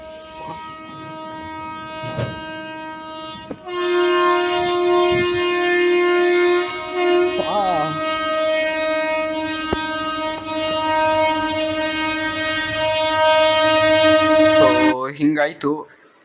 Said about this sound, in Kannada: ಆ ಕಡೆ ಆಪೋಸಿಟ್ ಸೈಡಿಂದನೂ ಟ್ರೈನ್ ಬಂತು